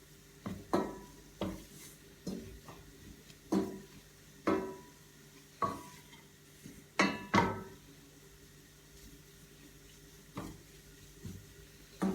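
Dough being turned and stirred as it roasts in a pan for a Turkish supangle-style dessert, giving a run of soft, close scraping and clinking strokes at an irregular rhythm, each one brief, over a faint steady sizzle.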